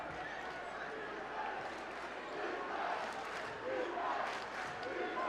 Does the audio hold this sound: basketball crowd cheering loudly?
yes